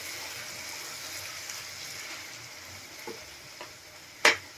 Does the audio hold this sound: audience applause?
no